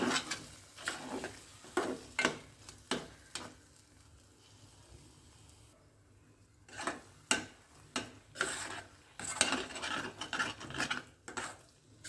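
Chana dal frying in oil in a pan, heard as quiet sizzling broken by repeated scraping strokes of a spoon stirring, irregular and close, with a short calmer pause midway.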